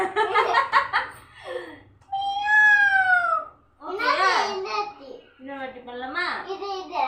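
Children playing a game chatter and giggle, and one voice breaks into a long, drawn-out meow imitating a cat before the playful talk resumes.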